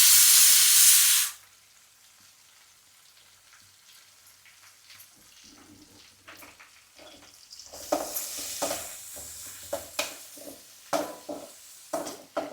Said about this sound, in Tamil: இதெல்லாம் போட்டு ஒரு 2 நிமிஷம் மறுபடியும் திரும்ப வதக்கலாம்.